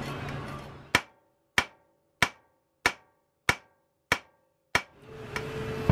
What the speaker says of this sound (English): see if I can smack the end of the axle to get the drum to pop off